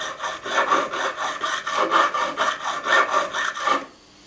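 A file scrapes back and forth across guitar fret ends on an ESP E-II Eclipse, deburring and rounding the edges: about a dozen steady rhythmic metal strokes, close and clear, with no talk, ending abruptly.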